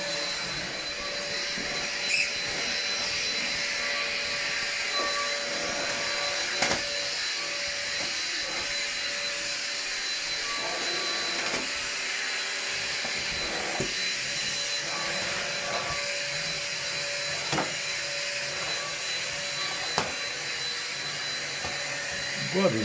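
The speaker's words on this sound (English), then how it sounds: "This vacuum cleaner that I bought here, you can see it from Aldi." A new Aldi vacuum cleaner runs steadily at household volume, a continuous whine and airy roar with harmonic tones throughout, broken by occasional knocks and bumps as it is pushed around.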